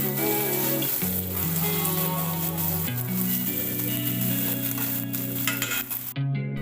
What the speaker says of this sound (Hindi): प्याज, कटी हुई प्याज। तो ये मैं अच्छी तरह से भून रही हूँ।